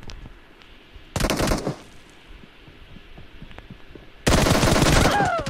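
Gunfire in a mobile shooter game: a short loud burst about a second long, a quiet gap, then a second sustained burst at the end, over faint background noise.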